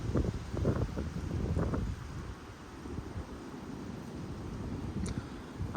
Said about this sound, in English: That was just the gust front that came through.